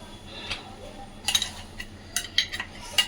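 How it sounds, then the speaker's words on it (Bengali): Metal utensils clinking against a bowl as spice paste for Bengali bhoger khichuri is transferred, with a few light, close chinks and scrapes spread over a few seconds over a faint hum. "এবার আমি একটা পাত্রতে ঢেলে নিচ্ছি"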